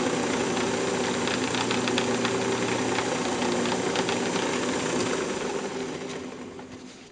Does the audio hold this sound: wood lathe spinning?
yes